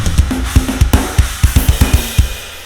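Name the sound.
mixed drum kit with drum bus EQ high-end boost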